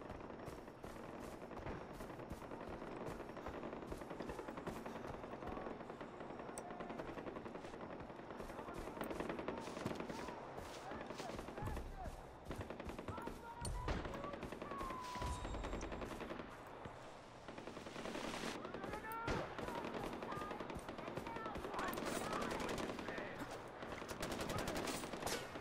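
Rapid bursts of automatic gunfire crackle almost nonstop, dense and layered, with occasional louder blasts, like an intense firefight in the game Far Cry 4.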